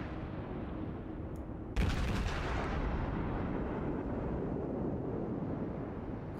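Naval gunfire from a Russian cruiser, the Mikhail Kutuzov, in World of Warships: a dense, roaring barrage of heavy booms that erupts suddenly after a low rumble and keeps rolling loud and continuous, with no voices.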